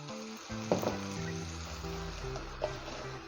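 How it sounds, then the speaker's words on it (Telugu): Kara boondi curry ingredients frying in oil in a pan, a steady close sizzle with a couple of stirring clinks and scrapes. "ఒక 4 to 5 మినిట్స్ దాకా దీన్ని ఇలాగే ఫ్రై చేయాలి."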